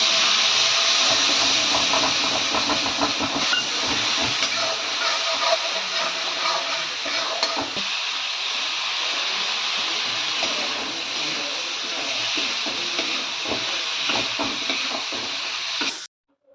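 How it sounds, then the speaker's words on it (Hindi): Vegetables sizzle and crackle steadily as they are tempered in hot oil with fenugreek and spices, a dense continuous hiss with occasional stirring clatter, close by, stopping abruptly at the end. "तो यहाँ सब्जी छौंक दी है"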